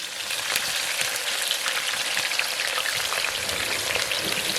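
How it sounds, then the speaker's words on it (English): Garlic and onion fry in oil in a Ninja Foodi, a steady, close crackling sizzle with no talk. "I'm just going to put my garlic first into the oil. Right there. Next, I'm going to add a little bit of my onion."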